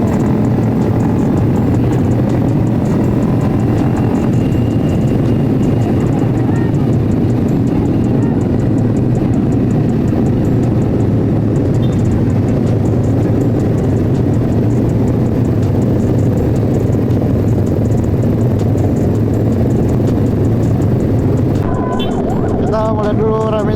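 Motorcycle engines drone and rev steadily on a busy Sunday morning group ride in Indonesia, a loud continuous low rumble of several bikes close by, with faint voices talking underneath and a brief burst near the end.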